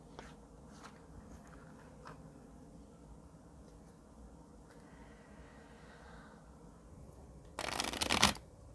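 Tarot cards shuffled in a quick, loud riffle near the end, standing out sharply against a quiet room with a faint background hum and a few soft taps earlier.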